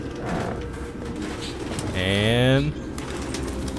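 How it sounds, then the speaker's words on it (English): Pigeons cooing in the video game Detroit: Become Human, a soft warbling coo rising briefly over an ambient bed of flapping and rustling birds, with someone speaking faintly at the start. "Dems is a lot of birds."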